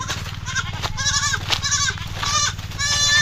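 Several goats bleating close by, a string of loud wavering cries one after another over a steady low engine-like hum.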